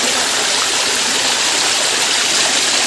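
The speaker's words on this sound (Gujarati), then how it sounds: "તો મિત્રો જુઓ ઉપરથી પાણી આવે છે" Steady rushing water pours continuously, a dense broadband wash close by with no pauses and no voices.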